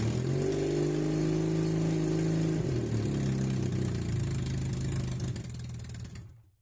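A Honda Rebel CMX250 motorcycle engine idles steadily just after an oil change, a loud, close, even rumble that dips slightly midway and then cuts off at the end.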